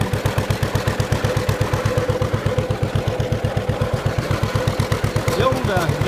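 A 1951 John Deere B tractor mows a garden with an old Moore brush hog, its two-cylinder engine popping in a fast, even, loud chugging rhythm throughout, close by.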